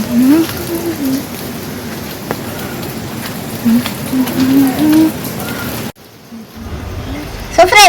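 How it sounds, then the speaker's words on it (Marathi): Heavy rain pouring down steadily in a village, a dense loud hiss throughout with voices talking underneath, cutting out abruptly near the end. "गावी खूप पाऊस आहे"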